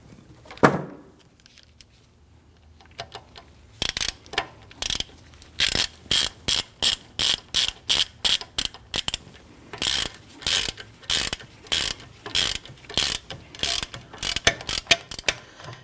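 Ratchet wrench cranking a lug nut down onto a wheel stud of a 2013-2019 Ford Police Interceptor Utility during a rear brake job, a loud, close, rapid run of regular clicking ratchet strokes after a brief opening clank.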